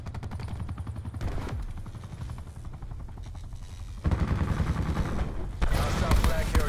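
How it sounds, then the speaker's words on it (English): Rapid automatic gunfire from a Call of Duty: Black Ops 4 capture-the-flag match, sustained bursts growing louder and denser toward the end, with a steady mechanical whir underneath. "I fucking stopped shooting because I think I killed him"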